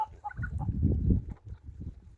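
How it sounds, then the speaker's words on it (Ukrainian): A tame but bad-tempered goose in a farmyard gives a few short calls near the start, followed by low handling noises and rustling up close. "Ось сама сама вредніша гуска."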